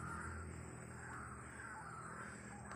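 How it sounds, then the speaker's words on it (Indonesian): A white-breasted waterhen calls somewhere in a forest, a faint, distant and steady stream of croaking against a dense background. "Tuh, terdengar suara burung ruaknya ya."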